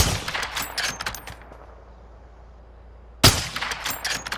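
Rapid automatic gunfire in Call of Duty rattles loudly and close in dense bursts, stops for a short quiet stretch, then resumes abruptly with another sharp volley.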